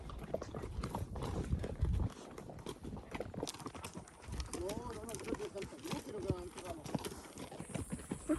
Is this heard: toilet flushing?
no